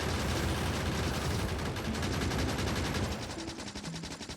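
Gun turrets in the video game Factorio fire at enemies in rapid, dense bursts of loud gunfire that rattle on continuously, thinning slightly toward the end.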